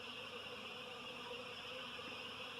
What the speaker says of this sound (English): This is them settling down right now, which is still a lot of bees.